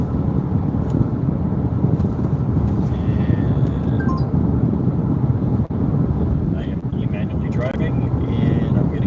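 Car cruising on a highway with steady broadband road and wind roar throughout, constant and loud, recorded from inside the moving vehicle.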